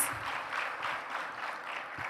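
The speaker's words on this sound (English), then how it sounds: "Another round of applause for Anastase" Audience at a youth-led dialogue event applauding a speaker, fairly faint and distant clapping that holds steady for the whole stretch.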